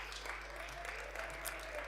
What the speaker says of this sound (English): Parents, yes, please give them a round of applause.